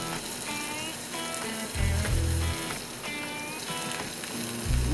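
Asparagus sizzles in oil in a pan that already holds mushrooms, a steady crackling hiss with irregular pops, joined by low bursts of rumbling that suggest a flare of fire.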